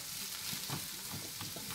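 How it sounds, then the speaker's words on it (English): Food fries in a pan with a constant close sizzle and soft stirring or scraping bursts throughout, fairly quiet, with no speech. "So we're going to fry this up and let them get soft"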